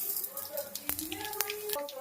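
Tempering seeds crackle in hot oil in a pan: a soft, steady sizzle with a few sharp pops near the start and middle, alongside faint tonal hums from the kitchen.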